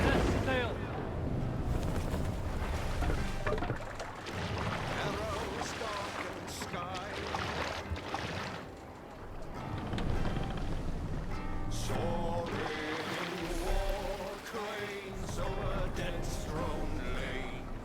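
A Viking longship setting sail in Assassin's Creed Valhalla: a continuous wash of water and creaking hull runs under dense game music and shouted crew voices, loud throughout with occasional heavier thumps.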